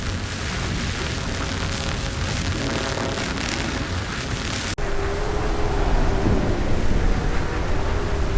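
Anomaly effects from the video game Stalcraft X: a loud, dense rumbling roar like a thunderstorm fills the scene, then cuts abruptly into a different steady, booming drone with a faint wavering tone.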